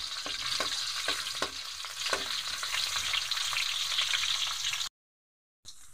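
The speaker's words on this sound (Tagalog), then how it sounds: "So ito na guys, mainit na yung ating mantika. Gisa na tayong luya." Ginger sautés in hot oil with a soft, continuous fry hiss and a few light stirring ticks. The sound is moderately quiet and cuts to a brief silence near the end before the frying resumes.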